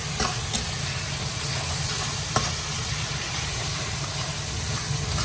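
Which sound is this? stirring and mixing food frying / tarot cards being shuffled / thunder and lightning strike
stirring and mixing food frying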